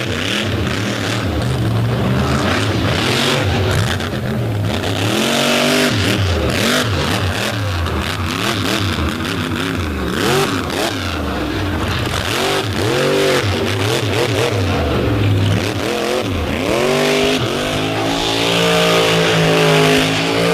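Jurassic Attack, a Redline Oil sponsored monster truck from Utah, roars at full throttle during a freestyle run at an indoor arena in Indianapolis, its engine loud and near with the revs rising and dropping repeatedly, a crowd faintly underneath.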